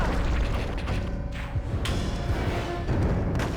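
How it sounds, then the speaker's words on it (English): A flashbang-like boss attack in the video game ILLBLEED lands as a loud, booming burst with thuddy low rumble, sustained and dense across the short stretch. "Another one of his attacks, or it's just like kind of like a little flashbang."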